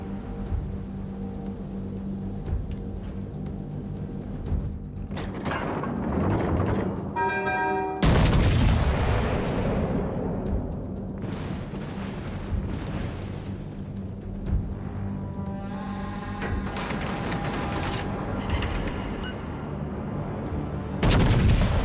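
Naval artillery salvos boom repeatedly in the World of Warships: Legends game, heavy gunfire blasts layered over a continuous din with whistling shell tones, loud and dense throughout.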